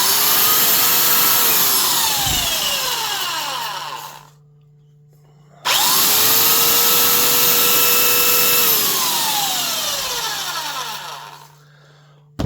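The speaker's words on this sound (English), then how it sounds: "Just give this Makita a run so you can hear how it sounds." A Makita 3x18-inch belt sander with a 5.6-amp motor and ball-and-needle-bearing construction runs loud and close in two long bursts, each spinning up sharply and winding down to a brief near-silence before it starts again, with no talk.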